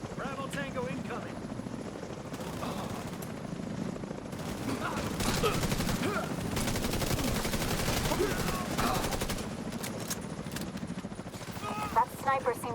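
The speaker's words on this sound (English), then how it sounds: "That sniper seems determined to deprive me of viable cover." Video game sniper fire cracks among dense, continuous battle noise with rotor-like rumble and scattered gunshots throughout, a voice talking in the middle of it.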